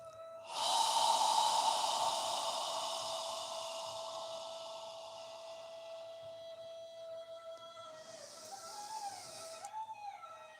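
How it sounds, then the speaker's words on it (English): Slow, deep exhales stream out as a long, soft breathy hiss lasting several seconds, followed by a shorter, fainter breath close to the microphone. "Imagine you're fogging a mirror with your breath as you slowly exhale."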